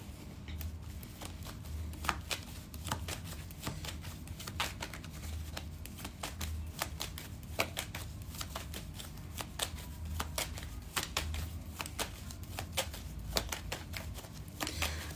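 A deck of tarot cards is shuffled steadily and close up, with a continuous run of soft riffling flicks and taps in a quiet room.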